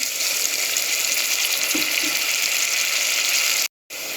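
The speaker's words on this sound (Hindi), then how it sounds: "अब मैं इसमें ऐड करूंगी थोड़ा सा पानी।" Water is poured into a karahi pan of browned onions and tomatoes while cooking mutton kabab karahi, giving a loud, steady hissing sizzle that runs throughout before a brief cut near the end, with no voices.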